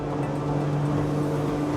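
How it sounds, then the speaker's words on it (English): Twin outboard engines on a Saxdor 340 GTWA boat at wide open throttle during a sea trial at speed, a steady droning hum with a strong tonal whine, close and continuous. "You can hear those engines increasing in RPM behind me."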